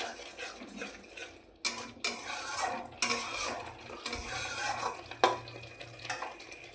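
Masala paste being sautéed in oil in a pan, a soft low sizzle with repeated clinks and scrapes of a spoon against metal, fairly quiet and close.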